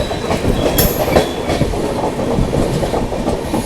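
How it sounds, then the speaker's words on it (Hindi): A passing Howrah–Kalka Netaji Express crosses near Subedarganj outer, its carriages rolling by loud and close with steady clickety-clack wheel rhythm and a brief high squeal, no voices. "जस्ट अभी अपनी ट्रेन की क्रॉसिंग हो रही है कालका मेल, हावड़ा टू कालका नेताजी एक्सप्रेस।"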